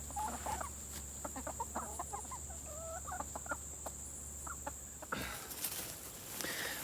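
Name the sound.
chickens clucking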